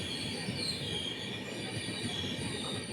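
The Dhauli Express passenger train runs at speed, giving a loud, continuous rumble with high wheel squeal and steady rail noise, heard up close and without voices.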